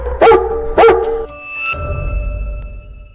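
A dog gives two sharp, loud barks close by, followed by a sustained electronic tone over low rumble.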